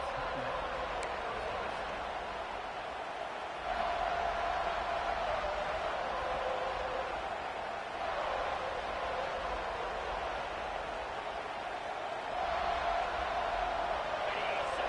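A large stadium crowd in the NCAA 26 college football video game roars steadily, a broad wash of noise that swells louder at a couple of points.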